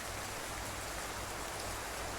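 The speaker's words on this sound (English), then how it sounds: "Shake the rain off our shoulders" Steady rain falls in the Truck Sim video game during a cold, gloomy Finnish dawn, a constant broadband hiss of drops on surfaces near a wet parking lot, continuous and even with no voices.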